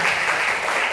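A brief, dense burst of audience clapping in honour of teachers, loud and steady for about a second.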